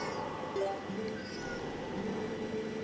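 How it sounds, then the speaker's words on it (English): A domestic cat meows softly a few times in the background of a quiet room, faint and somewhat distant, with a voice briefly present. "No, that's my cat."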